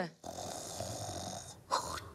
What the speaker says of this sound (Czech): on snad chrápe